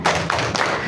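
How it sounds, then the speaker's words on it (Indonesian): A group clapping hands in a quick spirit clap, a few rapid claps in rhythm within under a second, fairly close and loud. "Tepuk semangat."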